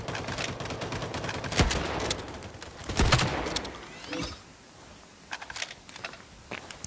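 A Remington shotgun fires in Battle Prime, two heavy booming blasts a couple of seconds apart amid a busy firefight with scattered distant shots, then quieter sporadic pops.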